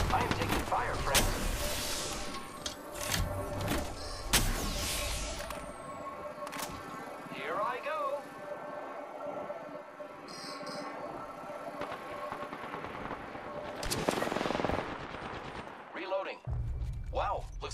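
Gunfire in a combat video game, with sharp bursts of shots in clusters near the start and again later, separated by quieter stretches of ambient game noise.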